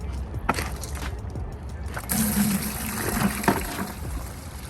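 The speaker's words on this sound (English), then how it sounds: "This is going to be my rinse bucket basically, and we're just gonna fill it with water." Water running into a rinse bucket for a two-bucket car wash, a steady trickling and splashing that grows fuller about halfway through, with light handling noises over it.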